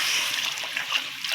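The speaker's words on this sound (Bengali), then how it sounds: "পরিমাণ মতো পানি দিয়ে দেবো।" Water splashes and pours into a pot of katla fish curry with potatoes, a close, brief, continuous hissing gush.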